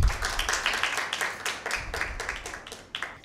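A small group claps for team A during a Bible quiz at a girls' cathedral school, a brisk patter of distinct, close hand claps with an uneven rhythm that fades somewhat over three seconds.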